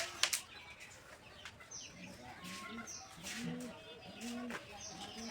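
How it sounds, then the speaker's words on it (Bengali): Pigeons sitting in a loft, one on eggs, coo softly in low repeated phrases while wings flap briefly near the start, faint against quiet background noise. "এই যে দেখতে পাচ্ছেন এখানে কবুতর আছে, খুব সুন্দর কবুতর, সুন্দর করে বসে আছে একজন প্রাণী।"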